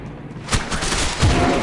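Gunfire in the video game Gotham City Impostors comes as a couple of muffled, booming shots about a second apart over a steady game background.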